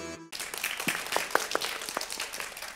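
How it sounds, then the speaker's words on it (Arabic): An audience on the children's show Maa Amou Yazid applauds for Nour El Houda, a dense, fairly close burst of many hands clapping that starts abruptly and holds steady for a couple of seconds. "إذا صفقوا على نور الهدى"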